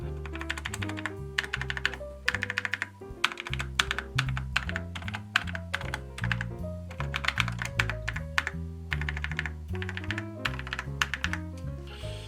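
Close-up typing on an older Cherry mechanical keyboard with larger keys, quick clusters of dull, soft-bottomed, mushy key presses with brief pauses between bursts.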